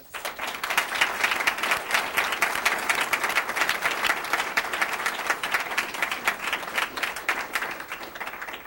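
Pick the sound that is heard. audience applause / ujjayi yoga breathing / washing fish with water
audience applause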